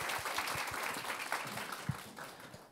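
Audience applause at a corporate job talk event, steady clapping from a crowd sustained throughout and tapering slightly at the end.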